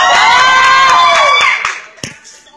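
A nightclub crowd at a sexy-girl contest cheers and whoops loudly with a burst of applause, the roar holding steady before fading out over the final second.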